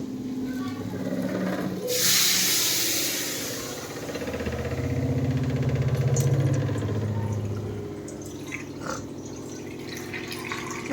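Drinking water runs from an Aquaguard purifier tap in a home kitchen, a soft hiss and trickle with a louder gush of flow near the start and quieter dripping afterward.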